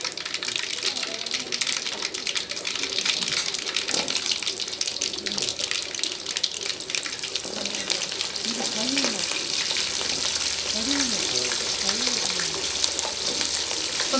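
Shallots and mustard seeds frying in hot oil for a Chettinad mutton liver pepper fry, giving a steady broadband sizzle throughout with faint spitting, while someone speaks over it now and then.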